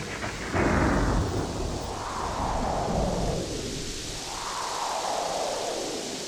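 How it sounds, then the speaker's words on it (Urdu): A thunderstorm sound effect: a loud roll of thunder bursts early, then rumbles and fades in long swells over a steady wash of heavy rain. "تیز طوفانی آندھی آتی ہے، گرج چمک ہوتی ہے، بارش شروع ہو جاتی ہے"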